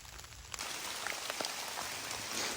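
Heavy rain from a winter rainstorm pours steadily, a dense close hiss of drops drumming on surfaces with no voices.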